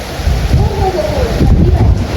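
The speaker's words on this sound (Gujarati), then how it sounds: "એવો વરસાદ પડે ને જો" Heavy rain pours during a storm with thunder, a loud, dense roar of falling water and low rumbling that fills the whole span close to the listener.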